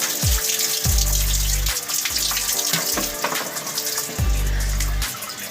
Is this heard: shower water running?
yes